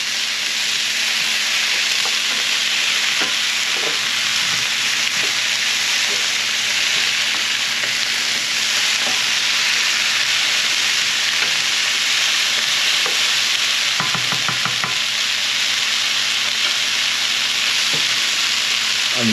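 Onions with cilantro, tomato and zucchini frying in a dry pan with no oil, giving a steady close sizzle throughout, with stirring clatters and a short cluster of scrapes near the end; no one speaks.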